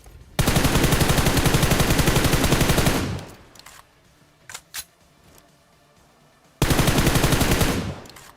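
Automatic gunfire in the PUBG battle royale game, a long loud continuous burst, a pause with a couple of short sharp shots, then another sustained burst.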